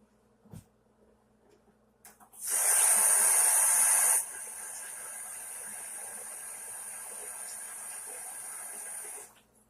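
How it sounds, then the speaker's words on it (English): Red potatoes with skins on are rinsed under a running tap, a steady hiss of water that begins abruptly, swells loudest for a couple of seconds, then settles into an even rush before cutting off. "I'm going to keep the skin on them, but I'm going to rinse them off."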